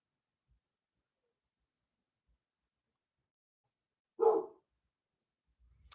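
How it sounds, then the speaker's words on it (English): A single short dog bark sounds once at moderate distance in an otherwise quiet room, followed by faint low rustling. "That is my dog barking."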